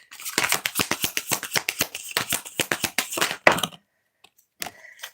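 Tarot cards are shuffled by hand in rapid, crisp riffling flicks that run for several seconds, close and clear, then stop, with a few faint taps afterward.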